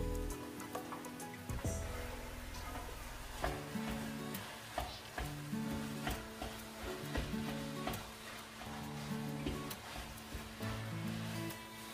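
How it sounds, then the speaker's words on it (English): Minced meat for a lasagna sizzles steadily in a pan with only a little butter, a continuous crackling hiss with music playing underneath. "Now add in the mince meat."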